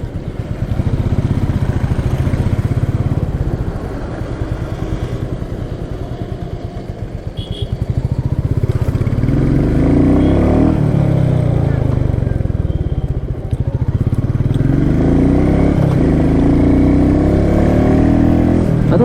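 A 2021 Royal Enfield Meteor 350 motorcycle being ridden, a loud steady engine drone with wind noise, dipping briefly and rising again as the rider shifts gear, with someone talking over it.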